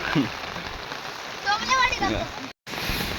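Monsoon rain pattering steadily on a Konkan rice field during planting, with a voice briefly talking over the hiss and a short dropout near the end.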